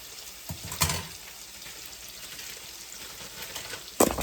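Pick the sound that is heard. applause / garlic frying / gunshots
garlic frying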